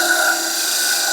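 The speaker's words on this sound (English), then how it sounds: "Now I'm back to the disc sander." A disc sander grinds down a guitar fret during a Martin D-35 refret, giving a steady, close, continuous whine and rasp with a bright tonal hum and no break.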